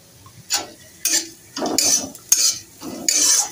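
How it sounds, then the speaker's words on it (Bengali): Chopped coconut fries in a pan while being stirred, giving intermittent close bursts of scraping and sizzle with utensil clinks, separated by brief quieter gaps, and no talk. "এবার আমি আমার নারকেল ভেজে নিচ্ছি, নারকেল কুচোটাকে।"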